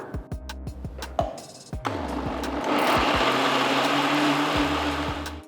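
A mixer grinder blends four large tomatoes into puree, a loud steady whirring roar building after a few short start-stop pulses.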